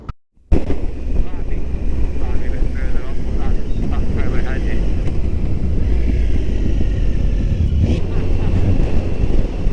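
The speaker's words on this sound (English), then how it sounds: "I mean the helicopter now" A steady, loud rotor and engine roar of a helicopter flying in Yorkshire, close by and continuous, with wind buffeting the microphone and no talking.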